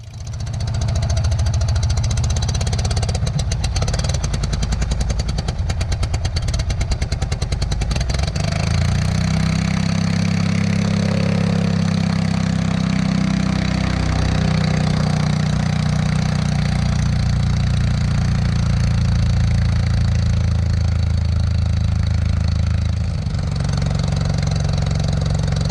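An Aeronca C3 light airplane's engine idles steadily while it warms up, its crankcase finned and the motor fully exposed to the breeze. The low knocking drone stays loud and close throughout, with a bit of wind buffeting early on.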